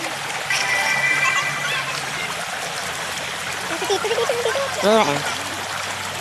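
A river stream at a nature trip spot in San Jose del Monte, Bulacan, runs as a steady broadband rush of flowing water throughout, with people chatting over it and a brief higher-pitched voice near the end.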